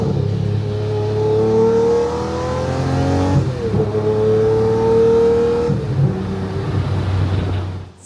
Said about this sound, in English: I'll show you a downshift there. You just don't get that in anything else.